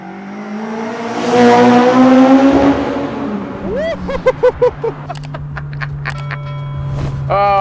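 Honda Civic Type R EP3, mapped, with a Solid Fab 3-inch exhaust, howls loudly as it accelerates hard in second gear with a rising engine note. Sharp pops and crackles follow, then a lower steady drone.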